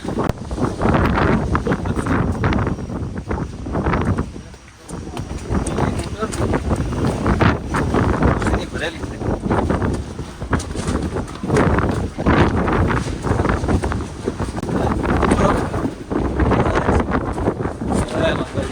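Strong monsoon wind on the steps of Mount Girnar, Junagadh, roars steadily into the microphone in loud, buffeting gusts, with only a short lull partway through.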